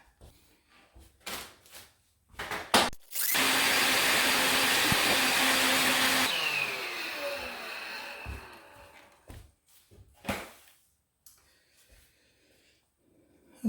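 A vacuum cleaner roars close by for a few seconds as it cleans behind a slid-out closet organizer of particle board, then fades. Thumps and handling noises come before and after.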